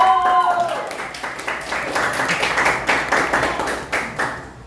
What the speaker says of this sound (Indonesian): Give a applause to everyone.